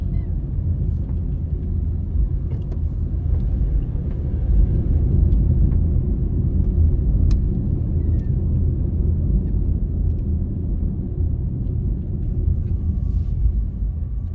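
Steady low road rumble and engine hum heard from inside a car driving along residential avenues and Jack's Hill Road, continuous and fairly loud with no talking.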